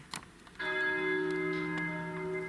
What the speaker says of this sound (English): he could hear the sound of bells from the distance